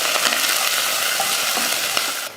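Continuous sizzling of onion sautéing in hot oil with mustard seeds, urad dal and curry leaves, with a few brief stirring clicks, close and steady.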